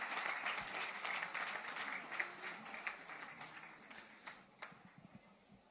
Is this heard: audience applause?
yes